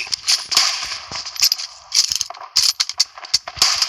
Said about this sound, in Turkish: Mermiyi çok yavaş değiştiriyor.